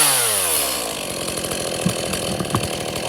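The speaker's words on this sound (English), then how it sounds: "that's how you start the Stihl MS-170 chainsaw" A Stihl MS-170 chainsaw starts and settles into a loud, steady idle, its engine running close by without any voices over it.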